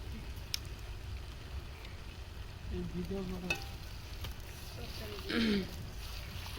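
Cooking oil hitting a pan of Sirajganj-style regional food, a steady frying hiss with brief louder sizzle bursts near the end, close and moderately loud, with faint background voices.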